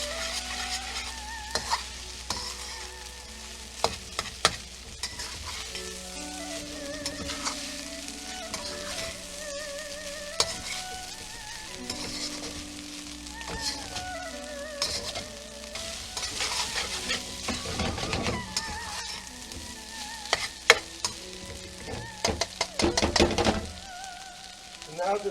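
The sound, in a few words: chicken fried rice frying with melting herb butter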